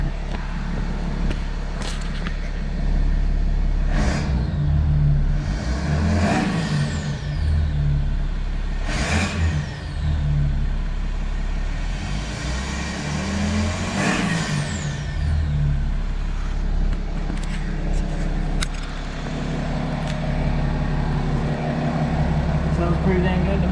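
A BMW F10 535d diesel with its DPF removed and a straight-pipe exhaust revs repeatedly, each rise swelling and falling over a deep rumbling idle, with people talking throughout.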